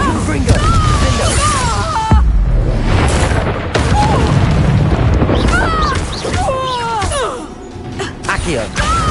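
Hogwarts Legacy spell combat, with Accio, Incendio and Confringo casts setting off repeated booming blasts, crashes and fiery bursts amid game effects. A player shouts spell names over the fight throughout.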